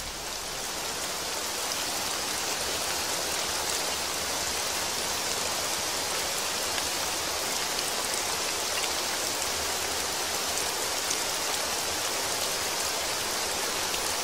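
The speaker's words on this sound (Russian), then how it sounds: "Дождь идет." Steady rain falls across the whole stretch, a dense, even hiss of drops on surfaces with no voices and no breaks.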